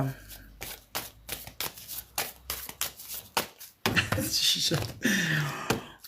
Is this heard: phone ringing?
no